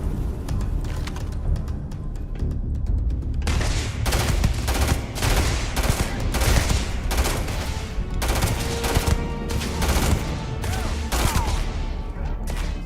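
Rapid automatic gunfire in the video game Starfield, loud and continuous, with dense bursts of overlapping shots and crashing impacts filling the whole stretch, and no talking over it.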